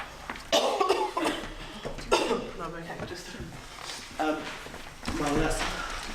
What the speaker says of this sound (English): My cough is not so good today.